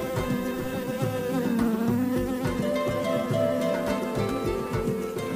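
A bee buzzes in a steady, close drone with a wavering pitch that shifts up and down as it moves about, loud and alone throughout.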